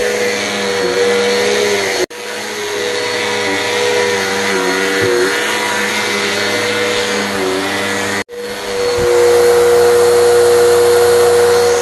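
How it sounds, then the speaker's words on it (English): Loud, steady vacuum cleaner drone on carpet, briefly cutting out twice with sharp clicks before resuming its constant whirring hum. "we're in the first room here pre-vacuuming"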